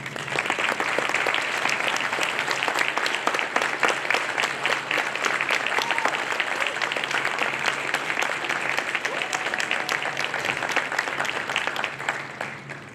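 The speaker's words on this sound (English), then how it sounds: "give you one final round of applause" Sustained applause from a large crowd at a college graduation reception, steady and even for several seconds before tapering slightly at the end.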